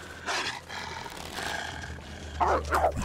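A wolf in the survival video game The Long Dark snarls and growls in short rough bursts, with two louder, harsher snarls at the end.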